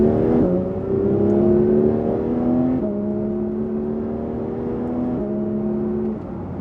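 A Porsche 992 GT3 accelerating hard on an open road, its engine climbing in pitch through several short-shifted gear changes, each upshift dropping the tone before it rises again, loud and steady from inside the car.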